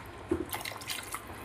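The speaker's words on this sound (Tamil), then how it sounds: "எவ்வளோ தண்ணி வேணுமோ நம்ம அவ்வளோ ஆட் பண்ணிக்கலாம்." Water pours and splashes into a pot of village-style sardine fish curry, a close, steady liquid sloshing with small drips, without any talk.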